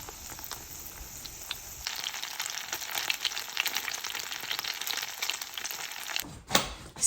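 Syrniki sizzle in plenty of oil in a pan, a faint, steady crackle with small pops that carries on with nobody speaking, then a brief clatter near the end.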